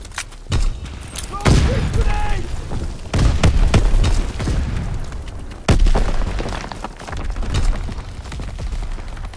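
Heavy booms and blasts in a World War II shooter game, several loud explosions spaced a few seconds apart amid gunfire, with shouted voices between them.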